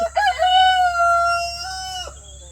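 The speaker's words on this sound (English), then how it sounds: "So when their rooster starts, my rooster starts." A single loud bantam rooster crow, close and clear, one long drawn-out call that rises and then trails off, with a low hum underneath.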